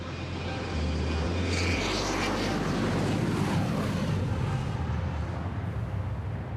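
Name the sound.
airplane taking off or landing at an airport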